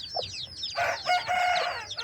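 Roosters and hens let out out of their coop into morning sun, with high clucks and chirps followed by a loud nearby crow that fills the second half of a short burst.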